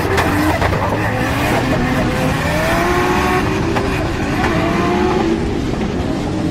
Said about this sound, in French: Et la dump valve qui n'en finit pas de décharger pour le 2JZ de la Subaru BRZ